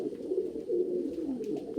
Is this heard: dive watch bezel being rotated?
no